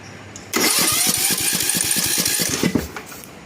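Engine on an Ariens zero-turn mower catching after a cranking attempt: a sudden loud start with rapid chugging pulses that settles briefly, then cuts back down near the end, heard close up with no talk.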